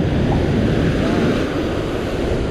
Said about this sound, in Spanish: El agua se puso recontra brava.